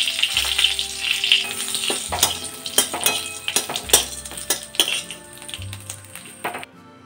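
Cumin seeds, bay leaves and a dried chilli sizzle loudly in hot oil as a tempering, with a steady crackling hiss broken by sharp clinks and scrapes of a spoon against the pan.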